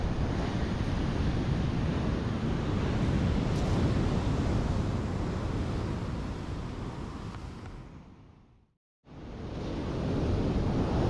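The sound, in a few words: ocean waves at Seruni Beach, Donorojo, Pacitan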